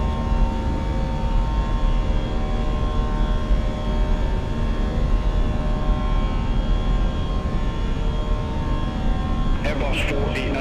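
British Airways Airbus climbing after takeoff from Glasgow, a constant dense engine drone with steady tonal hums, heard from the cockpit with brief clicks near the end.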